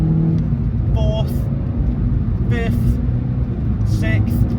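Renaultsport Clio 197 (non Cup Pack) pulling hard up through second, third and fourth gears, steady engine drone rising with brief shift breaks, heard from inside the car with someone talking over it throughout.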